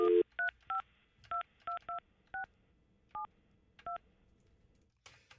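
Telephone keypad dialing tones: nine short, clear two-tone beeps at an uneven pace, like a number being punched in quickly, against a quiet background, followed by a faint click.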